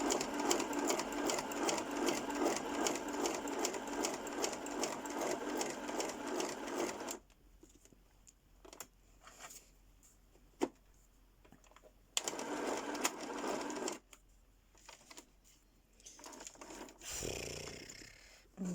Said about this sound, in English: I can't get over how much this sewing machine pulls.